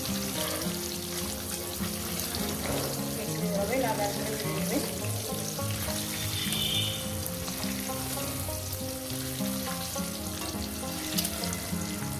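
Egg curry frying in a pan gives a steady, close sizzle that continues without a break, with some soft stirring and a faint tonal layer beneath it.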